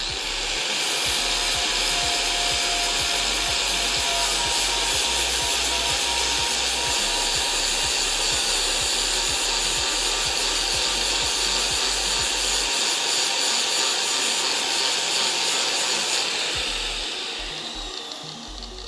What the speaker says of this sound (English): I don't grind away at the cross member because you'll thin it out. I just want to get at the weld.